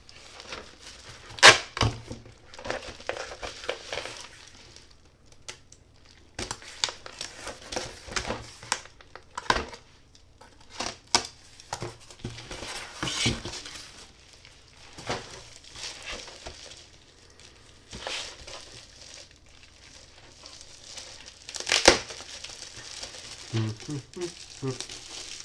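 Tape and plastic bubble wrap being pulled off a boxed 1/72 scale Six Plus Models Martin T4M torpedo bomber kit: close, irregular crinkling, tearing and rustling with sharp snaps over about 25 seconds, with occasional speech.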